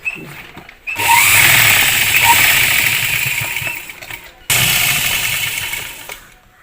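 A sewing machine runs in two long bursts while stitching a V-neck on a garment, its motor whirring loud and steady, stopping briefly between runs.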